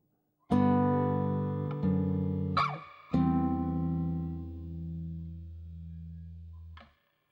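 Guitar plays measure 9 of Bach's Jesu, Joy of Man's Desiring: a few plucked notes and chords struck in turn, each ringing out, the last sustained for several seconds before stopping, alone and close.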